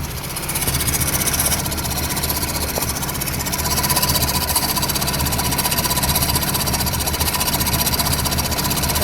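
A broken VW MK2 Scirocco engine runs with an awful clutch fault, a steady, loud mechanical clatter and knocking vibration over a low engine drone, close up and without a break.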